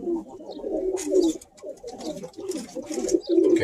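Several pigeons, a racing line bred as fast "torpedo birds," coo steadily in a loft, their low, rolling calls overlapping nearby with faint flutter and rustling throughout.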